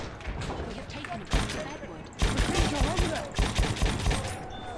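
Automatic gunfire from a Chauchat light machine gun on the Amiens map in Battlefield 1, heard as loud rapid bursts broken by brief pauses over steady game-battle noise, close and dense.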